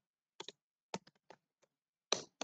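Sparse keystrokes on a computer keyboard while Java code is entered, a few isolated clicks and quick pairs with short pauses between, close and clear against silence.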